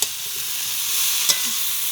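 Cauliflower pieces frying in a pan give a steady, close, bright sizzle, with a couple of brief scrapes from stirring and no talk.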